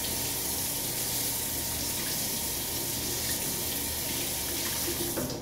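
A bathroom tap runs steadily as a towel is wet under the stream, a loud, continuous rush of water that holds constant throughout and alters slightly at the very end.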